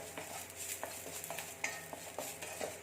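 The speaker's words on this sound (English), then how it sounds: "I'm going to add the curry leaves in the same kadai" Curry leaves fry and are stirred in a dry kadai on high flame, a soft crackling sizzle broken by quick scraping strokes, faint and close.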